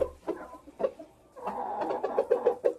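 Hens in a chicken coop cluck in short, close bursts, quietly at first and then in a busier run of repeated clucks near the end.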